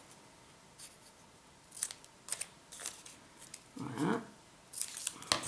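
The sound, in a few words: scissors cutting cardboard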